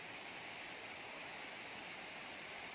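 Steady rushing water from a waterfall and river beside Gadachandi temple, a dense continuous broadband roar heard close and alone, with no voices over it.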